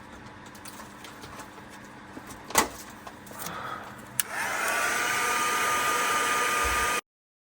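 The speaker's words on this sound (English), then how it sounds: "use some heat gun to warm it up a little bit so it flows a little bit better" Heat gun warming eco pour resin in a trinket tray: after a few soft clicks and knocks, a steady close whooshing blower hum switches on and runs for about three seconds before stopping abruptly.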